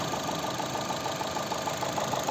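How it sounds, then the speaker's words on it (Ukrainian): A 2009 Opel Zafira 1.8 petrol engine idles steadily without a break, a low continuous rumble with faint mechanical ticking throughout, heard up close. "Ось звук роботи двигуна."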